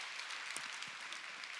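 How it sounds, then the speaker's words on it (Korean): An audience claps together through a motivational seminar talk, a dense, steady wash of hand claps at moderate distance, continuous for the whole moment with no voices over it. "자, 박수 한번 쳐보실까요?"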